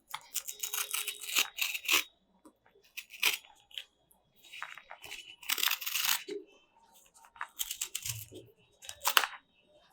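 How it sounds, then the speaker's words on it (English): A package seal being cut open by hand, heard as several short bursts of tearing and snipping separated by brief pauses, fairly close and moderately loud, with no talk. "here is the seal, and you need to cut it right here"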